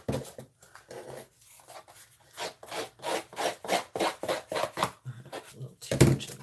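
Repeated rubbing and scraping strokes distress the edges of a mixed media gear album piece, a steady rhythmic series of close, moderately loud rasps with brief pauses, a final louder stroke near the end.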